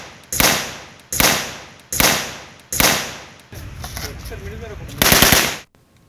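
Police commissioner fires an AK-47 rifle into the air at a traditional ceremony: four loud, evenly spaced shots ring out, each with a long decaying echo, followed by a brief noisy crowd stretch and a final sustained burst.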